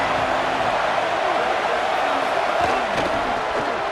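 Stadium crowd noise in EA Sports College Football 27 against Fresno State, a dense, steady roar of cheering fans filling the air for the full stretch at a constant loud level.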